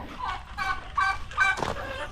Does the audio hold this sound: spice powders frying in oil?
no